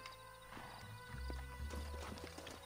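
In the Red Dead Redemption video game, a horse gallops with rapid rhythmic hoofbeats, close and moderately loud, building through the middle; no one speaks over it.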